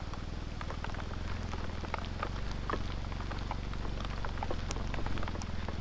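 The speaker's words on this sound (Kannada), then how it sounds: "ಎಂತ ಮಳೆಯಾ" Heavy rain during a motorcycle ride: a dense, constant wash of drops and spray over a low engine and wind rumble, steady and close throughout with no talking.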